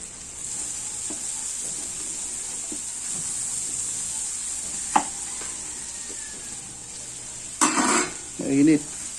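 Finely minced garlic and onion sautéing in a pan for beef caldereta, a steady hiss under occasional light clinks, then a couple of louder stirring scrapes toward the end.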